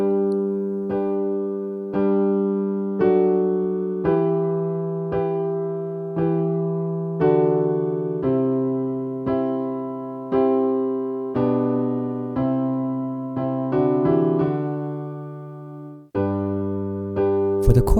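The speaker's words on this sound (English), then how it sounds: "So that last part of the verse sounds like this." Piano plays the closing phrase of a verse from a song, a slow sequence of sustained chords and melody notes struck at a steady pace, each ringing and decaying, clear and close with no voices.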